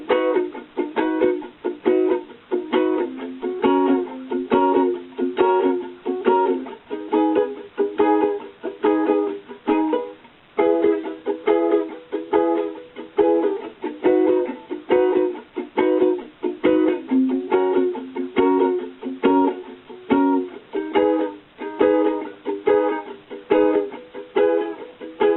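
Ukulele strumming of a song with left-hand chuck muting, a steady close rhythmic pattern of bright chords broken by short percussive muted chucks, with no voice.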